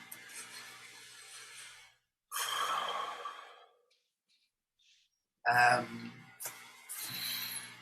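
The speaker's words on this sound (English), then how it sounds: "I'm just going to breathe that in. And as a group, we can breathe it all in." A group meditation session, with deep breaths drawn in and released as long, airy sighs in separate bursts, each followed by near-silent pauses.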